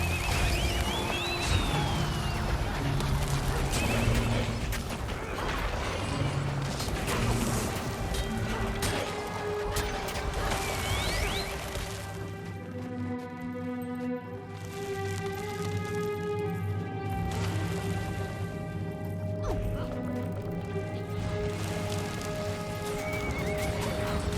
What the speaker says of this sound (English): someone's using the goddamn horse weapon